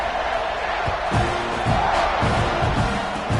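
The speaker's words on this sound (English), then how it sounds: "this crowd is buzzing after that last score" A football stadium crowd at an NCAA game keeps up a steady loud roar and buzz after a score, with a few sharp thuds and shouts rising out of the dense wash of noise.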